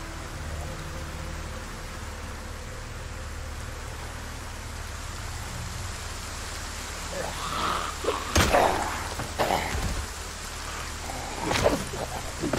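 Rain in the video game Project Zomboid, a steady broadband hiss of falling rain with a few louder bursts and clatter toward the end.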